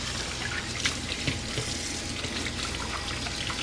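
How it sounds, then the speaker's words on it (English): Hands are rinsed under a running kitchen tap, a steady close rush of water splashing into the sink with small irregular splatters throughout, and no talking. "Rinse my hands."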